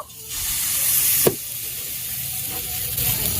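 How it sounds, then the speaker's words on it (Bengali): A steady, bright sizzle of pitha batter frying in a hot kadai, with one sharp clack partway through and a constant hiss to the end. "কড়াইটাকে খুব ভালো করে গরম করে নিতে হবে। এখন আমি পিঠার ব্যাটারটা দিয়ে দেব"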